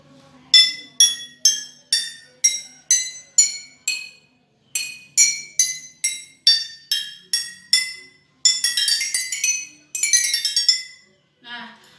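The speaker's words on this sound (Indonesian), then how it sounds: "ternyata botol ini mengeluarkan suara yang berbeda-beda, mulai dari suara paling tinggi dan suara paling rendah" Glass bottles filled with water to different levels are struck one after another, giving a run of bright, ringing clinks with quick decays at varying pitches, then two longer rattling strikes and a soft final tap.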